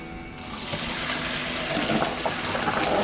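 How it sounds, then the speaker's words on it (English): Water from a tap running over freshly cooked, steaming lasagna noodles in a strainer, a sudden onset that builds into a steady, close splashing rush with trickling details. "Let's run the water off of those noodles."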